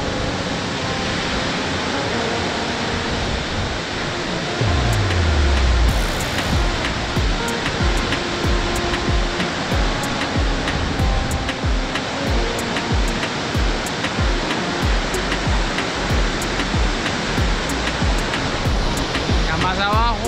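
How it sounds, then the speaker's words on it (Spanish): The Suárez river rushes through a canyon, a loud, constant roar of turbulent water that fills the whole stretch without a break. "Aquí vamos a apreciar la fuerza que tiene este río"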